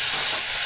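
A splash of water hits a hot pan, producing a short, sharp burst of steam hiss that stays bright and loud for under a second.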